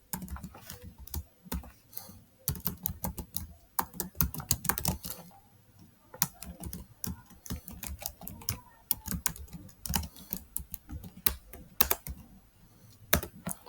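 Code being typed on a computer keyboard during a test-automation tutorial, bursts of close, crisp key clicks in uneven runs with short pauses, steady and alone without talk.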